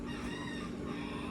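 Roosters crow on a small farm, a brief, fairly faint and slightly distant call with no voices over it.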